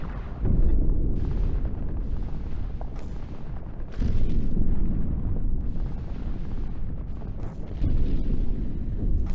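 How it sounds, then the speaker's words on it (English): Distant artillery guns from a wartime audio drama, a continuous low rolling rumble with heavier booming swells every few seconds, dull and far off, with no voices over it. "In the silence, the guns grow ominous and audible. More ominous than when last we listened to their eternal rumble."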